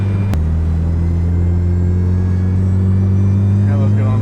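A Honda Civic with a B-series engine makes about 400 horsepower and drones with a steady low rumble from inside the moving car, rising slightly after a sharp click, while people talk over it.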